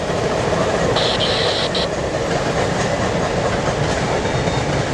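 An Amtrak Pennsylvanian passenger train passes at Rockville Bridge, a loud continuous rumble and roar of rail cars close by, with a brief high tone above it.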